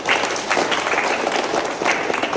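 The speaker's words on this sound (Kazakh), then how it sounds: "Қол шапалақтап қойыңдар" Sustained crowd applause for young boxers who won gold, silver and bronze medals at a boxing competition, dense steady clapping filling the room at close range with some faint voices mixed in.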